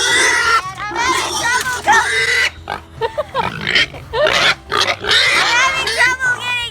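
Feeder pigs crowd close, squealing shrilly in overlapping bursts with lower grunts underneath, loud and chaotic with brief lulls between outbursts.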